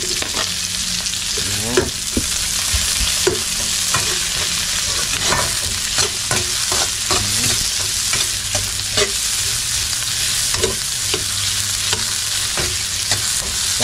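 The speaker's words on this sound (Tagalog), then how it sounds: "Lagay na rin natin yung sibuyas at bawang." Onion, garlic and ginger sautéing in a pan while cooking mung beans, a loud constant sizzle with frequent scraping stirs and knocks, close, with a brief spoken word.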